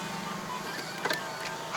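Electric power window motor of a 2010 Mazda 3 BL Sport 2.0L hums steadily as the glass moves, a short whirring drone heard up close inside the cabin.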